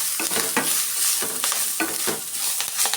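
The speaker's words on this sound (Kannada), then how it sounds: "ಕೊಬ್ಬರಿ ತುರಿ ಸೇರಿಸ್ಕೊಂಡು ಸ್ವಲ್ಪ ಚೆನ್ನಾಗಿ ಮಿಕ್ಸ್ ಮಾಡ್ಕೊಳ್ಳೋಣ." Grated coconut is stirred into sambar masala frying in a pan for obbattu sambar. A steady hiss of sizzling oil runs throughout, broken by regular scraping strokes of the spoon. No one speaks.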